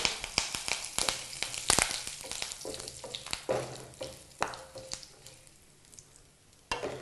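Curry leaves dropped into hot oil with dried red chillies for a broad bean stir-fry, crackling and spitting in sharp irregular bursts that fade toward the end.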